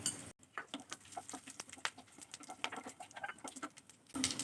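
Whole spices hit hot sunflower oil in a pan while cooking sabudana khichuri, giving quiet, scattered crackles and small pops at close range, with no voice over them.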